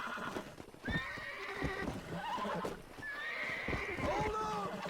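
A horse in Red Dead Redemption whinnies twice over steady clip-clopping hooves and a busy game background, the neighs rising and falling in pitch.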